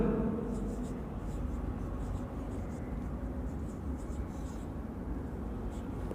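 Chalk writing on a lecture-hall board makes faint, intermittent scratchy strokes and taps beneath a constant, fairly loud background hum, with no speaking.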